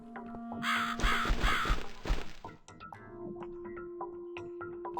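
Harsh cawing crow in the horror video game The Cat Lady, two or three loud caws layered over background music and thudding game sounds.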